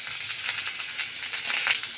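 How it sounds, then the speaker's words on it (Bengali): Eggplant and potato frying in a pan for a greens chochori, a steady bright sizzle with faint stirring crackles, close and continuous. "তো এইবারে আমি বেগুন আর আলুটা দিয়ে দিলাম।"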